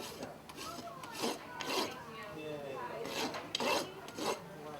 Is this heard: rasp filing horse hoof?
yes